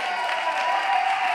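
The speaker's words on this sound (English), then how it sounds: "We should definitely give a round of applause for Shannon here." Brief burst of applause at a coding bootcamp demo day in Lisbon, a dense steady wash of clapping from a room of people, with a crowd murmur underneath.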